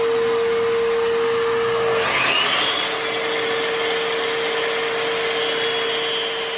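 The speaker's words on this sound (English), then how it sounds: "just gonna chop this here now with my trusty Makita saw" A Makita power saw runs with a steady high whine and bites through a piece of scrap wood about two seconds in, then keeps spinning loudly and evenly nearby.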